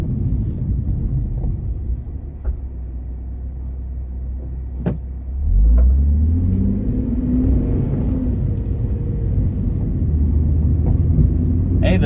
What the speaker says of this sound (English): Uh-oh, another car coming in.